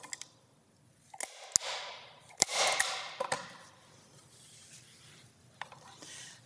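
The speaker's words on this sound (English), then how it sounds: "flip the board over, and then staple gun the ribbon in place" A staple gun fires staples through ribbon into a memo board, a few sharp close snaps spaced over several seconds, with quiet handling and rubbing between shots.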